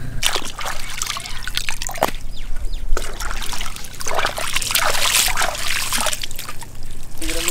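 Palmyra sprouts with their nuts still attached being rinsed by hand in water, giving continuous close trickling, sloshing and splashing with scattered drips and bursts of louder splashes.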